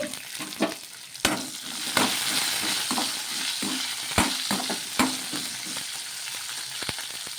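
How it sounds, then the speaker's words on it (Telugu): Green chillies fry with garlic and cumin in a pan, giving a steady sizzle that is broken by sharp clacks as a spoon stirs and knocks against the pan. It sounds close and moderately loud, with no talking. "ఇందులోకి కారానికి తగ్గట్టు పచ్చిమిర్చి కూడా వేసుకొని వేయించేసుకోవాలి"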